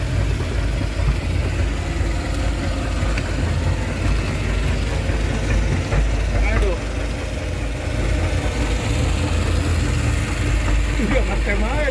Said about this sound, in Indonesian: Mesin kapal sudah nyala dan kapal sudah mulai meninggalkan.